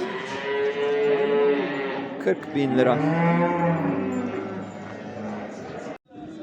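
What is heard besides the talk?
cow mooing at livestock market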